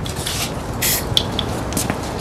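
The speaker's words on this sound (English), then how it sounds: "And now you can spray as if you're using a spray gun instead of finger." Short hissing bursts of a spray gun applying finish to a coffee table, close by, with brief airy pulses over a steady background hiss.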